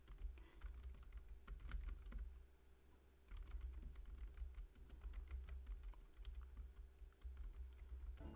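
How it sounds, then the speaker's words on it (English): Rapid, uneven clatter of keys on a computer keyboard, close up and continuous apart from a short pause, with no talking. "mashing keys right here while it's recording in Audacity"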